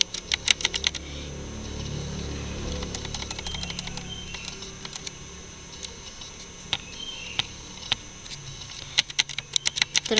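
Keyboard typing at a computer while entering a tracert command in the command prompt, heard as scattered, fairly faint key clicks over a low background hum, with a denser burst of keystrokes near the end.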